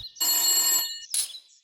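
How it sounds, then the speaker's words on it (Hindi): A telephone bell rings in one long burst, then starts a second shorter ring, loud and clear with nothing else around it. "तभी टेलीफोन बजता है।"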